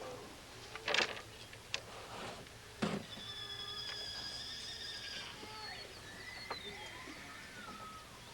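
Horses neigh and whinny in a 1985 Daniel Boone wagon train, with a few loud close whinnies standing out over steady outdoor background noise and faint bird-like calls.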